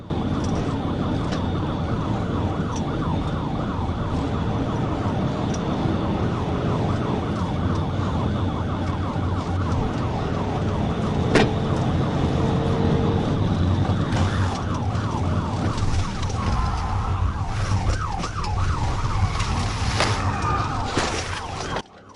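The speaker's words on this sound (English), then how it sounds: "I activated my emergency lights and siren" A police car siren wails continuously during a high-speed chase, its rising and falling tone steady and loud over rushing road and engine noise throughout.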